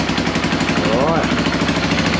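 A freshly rebuilt Yamaha YFM225 ATV engine on its first start, with a possible exhaust leak, runs close by with a steady, loud, throbbing idle while a voice briefly talks over it.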